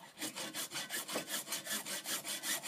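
A hacksaw cuts through PVC pipe in quick, even back-and-forth strokes, about five per second, a steady rasping close up with no voices over it.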